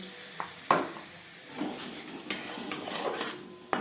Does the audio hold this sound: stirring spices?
yes